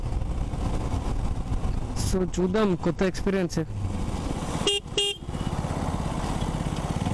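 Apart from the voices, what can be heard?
motorcycle with loose chain making bad noise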